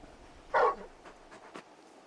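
Torgal, the large dog in Final Fantasy XVI, gives a short soft whimpering vocal, one brief louder whine followed by fainter little whines, close and quiet with no talk.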